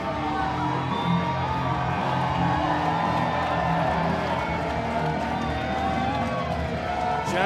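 A wrestling event crowd roars in sustained ovation in the Great Hall, with dense cheering, whoops and clapping filling the room steadily and loudly throughout, with no letup.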